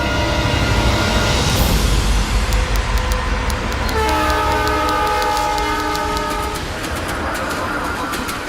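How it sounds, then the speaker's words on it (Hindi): A passenger train pulling away, loud and close, with a steady rumbling roar, rhythmic rail clatter and a sustained horn blast partway through, the noise slowly easing as it departs. "तुलसीगढ़ के लिए ट्रेन निकल गई है।"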